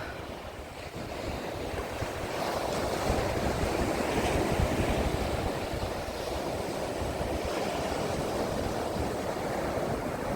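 Sea waves washing onto a shore in Odesa, a steady broadband surf roar with wind noise buffeting the microphone throughout, no voices.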